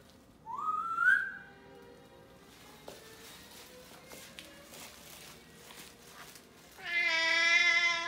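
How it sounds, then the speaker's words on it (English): A cat meows twice, a short rising call near the start and a longer, louder one near the end, with quiet rustling and footsteps in between. "You're a noisy kitty."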